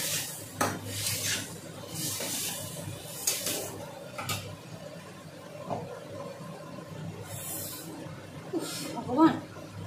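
Spices, turmeric, chili and salt, being stirred and fried in a cooking pan, with repeated scraping and clinking of a utensil against the metal through the clip and voices talking in the background.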